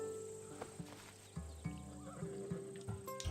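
A horse whinnies and snorts in Assassin's Creed Odyssey, with a few clip-clopping hoof steps and a steady game ambience in the background.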